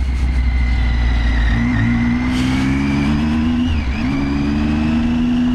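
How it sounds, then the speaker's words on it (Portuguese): A nearby motorcycle engine idles and then revs up unevenly, its pitch rising and wavering as a faulty clutch slips, loud and continuous. "A moto que tá em embreagem ruim, galera."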